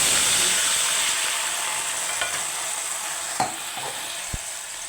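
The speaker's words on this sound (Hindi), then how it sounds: "ये डाल दूँगी मैं प्याज ऑयल में" Ground onions sizzle steadily in hot oil in a home kitchen, a loud close frying hiss that continues throughout, with a few soft stirring clinks near the end.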